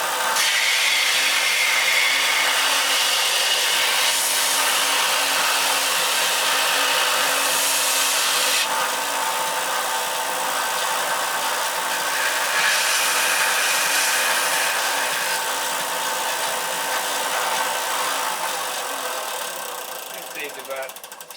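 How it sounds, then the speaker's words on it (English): A belt sander grinds wood on a boat build, making a continuous loud whirring rasp throughout that shifts slightly in tone as it works, close to the listener and without talk. "We'll use the belt sander and take some of the main part off."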